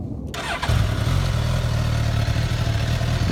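A Suzuki GSX-S1000F motorcycle cranks briefly with a high starter whine, then catches and settles into a loud, steady, close idle with a low rumbling pulse, no talking.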